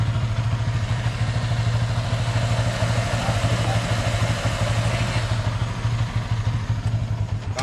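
A Yamaha Exciter motorcycle with a 62 mm bore engine idles close by, a steady loud rapid thumping exhaust pulse with mechanical clatter, running evenly throughout.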